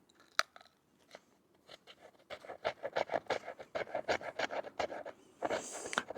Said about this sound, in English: we're going to see how well this does at scraping this redwood as well